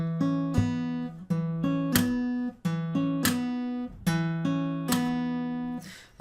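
Acoustic guitar plays a song's riff, repeating plucked note patterns punctuated by sharp percussive slaps on the strings at a steady rhythm, close and clear with no talking.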